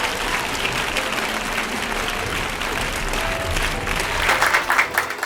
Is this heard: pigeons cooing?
no